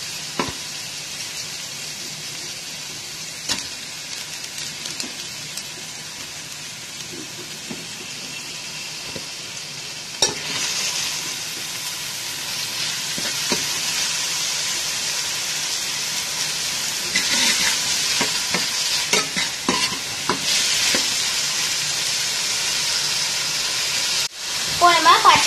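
Onions sizzling in hot oil with ginger-garlic paste for a vegetable kurma, a steady frying hiss broken by scrapes and clatters of stirring, getting busier midway, with a brief sharp knock near the end.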